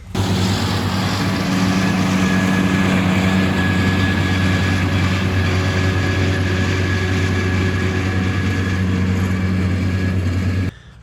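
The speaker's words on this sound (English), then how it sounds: "just watch the tractors just go back and forth" A tractor works steadily through a hay pasture on a fine day, its heavy low engine drone constant and fairly close for several seconds before stopping abruptly.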